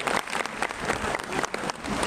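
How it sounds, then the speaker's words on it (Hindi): Applause welcomes a speaker at a national working committee party meeting in a Lucknow auditorium hall: steady, dense clapping from a large seated crowd, close and fairly loud, with no speech over it. "जोरदार ताली बजा करके स्वागत करें"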